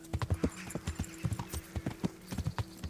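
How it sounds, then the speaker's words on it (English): Horse hooves clop along in the medieval game Kingdom Come: Deliverance, a quick, steady beat of close hoof strikes that continues throughout without speech. "Is he on a horse as well?"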